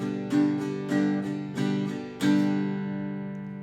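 An acoustic guitar strummed without a pick, downstrokes with the fingers and upstrokes with the thumbnail, rings out in four close, loud chord strums, the last one left to sustain and fade.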